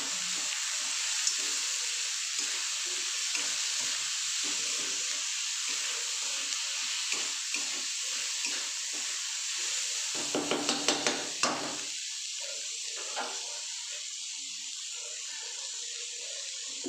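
Whole spices including fennel seeds with a little sugar sizzle steadily in hot oil for a chicken curry, with a brief burst of clattering as they are stirred in the pan midway.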